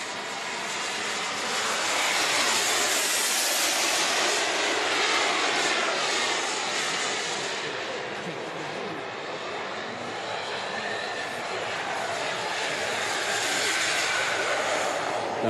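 Model jet aircraft performing at an indoor air show, a sustained loud turbine roar that swells and fades slightly as it flies past, continuous for the whole span with no talk.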